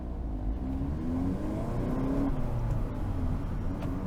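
A 2025 Hyundai Elantra N engine revs through a shift from first to second gear, a steady close drone with a brief dip and rise in pitch as the revs fall and climb again.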